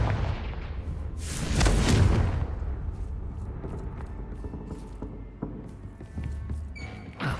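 A Confringo blasting curse bursts in Hogwarts Legacy, a loud booming blast swelling around the two-second mark, then rumbling and clattering debris fading beneath scattered thuds and faint magical chimes.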